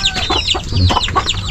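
Several backyard chickens cluck close by, a busy overlapping run of short clucks and squawks in quick succession, loud and unaccompanied by talk.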